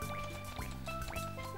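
Water gurgles and bubbles as a tank refills in Super Mario Sunshine, a quick run of liquid glugs and rising drips over a steady game soundtrack, fairly quiet and with no talk.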